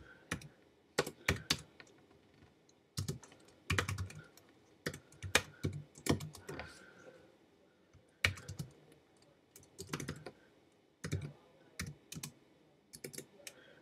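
Clicks from a computer keyboard come in uneven bursts of close, crisp keystrokes with short pauses between them, with no other sound around.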